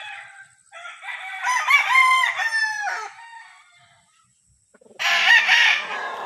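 A white claret gamecock crows nearby, two strong, harmonic crows separated by a brief quiet pause, with no talking over them.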